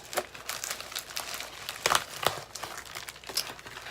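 A small pink Ipsy subscription envelope being opened, giving close, faint crinkling and papery rustling in irregular bursts, with a couple of sharper crackles.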